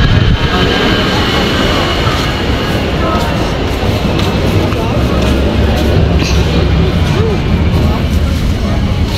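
A light rail train rumbles loudly and continuously at a station, with a steady mechanical roar filling the space.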